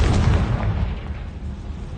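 A Confringo fire spell explodes in Hogwarts Legacy, a loud, deep booming blast that rolls out into a rumbling decay over about two seconds, with no voices.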